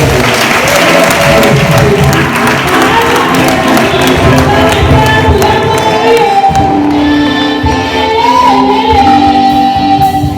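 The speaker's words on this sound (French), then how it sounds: "On acclame le Seigneur" A church congregation applauds during a worship service: dense, sustained clapping fills the whole stretch, with crowd voices and cheering mixed in and faint tonal sounds running underneath.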